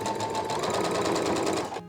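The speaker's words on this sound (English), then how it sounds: "Now, as the last step, I have to sew the elastic to the waist." Sewing machine stitching elastic onto the waist of a top, a loud, close, continuous rapid motor hum running steadily before stopping abruptly.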